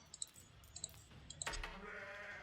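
Sheep bleat in the Age of Empires IV strategy game, a few short, faint bleats over quiet game sounds, followed by a louder swelling in-game sound effect.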